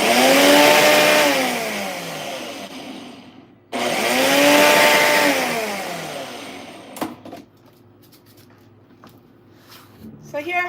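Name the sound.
blender blending oatmeal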